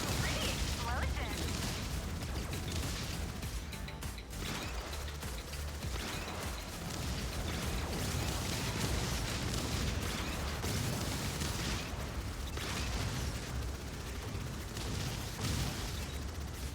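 Explosions in the Subverse video game. The game audio gives dense, loud, rumbling bursts and crackling blasts that keep going without a break.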